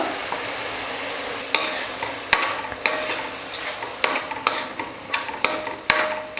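Tomato paste sizzles and stirs in a hot frying pan, with repeated scraping strokes of a utensil against the metal over a steady crackling hiss.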